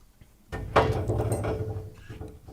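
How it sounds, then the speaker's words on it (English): A person walks into a glass door: a soft bump is followed at once by a loud, resonant thud that rattles and rings on for a couple of seconds. "He walked into the glass door again."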